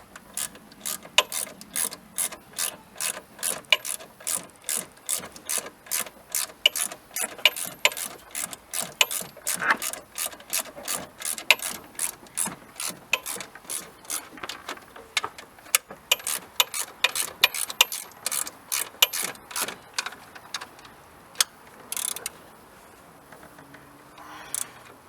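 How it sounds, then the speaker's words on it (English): A ratchet tightens a nut on a 1992 Dodge Dakota alternator, giving a long run of quick, close, rhythmic clicks with brief pauses between bursts of strokes. "Put a backer on the nut, then tighten up the bottom one."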